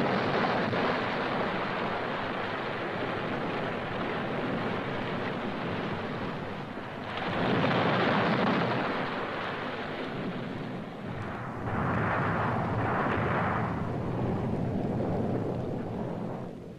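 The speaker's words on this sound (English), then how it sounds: "Don't you hear the storm?" A storm roars steadily and loudly with wind and a rushing, surf-like wash, swelling into heavier rumbling surges around the middle and again near the end, with no voices.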